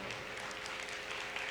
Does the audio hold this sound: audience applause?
yes